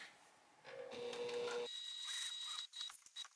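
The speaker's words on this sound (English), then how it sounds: "go ahead and sew with that seam allowance given the pattern all the way around" Home sewing machine stitching a seam around a pattern piece with sharp pivots at the corners, a steady mechanical whir that shifts pitch partway through before stopping and starting in short bursts near the end.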